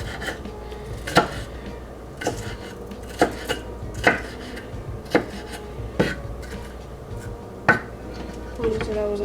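Knife chopping food on a cutting board at home, sharp irregular thuds spaced about a second apart, close and clear, with occasional talk in between.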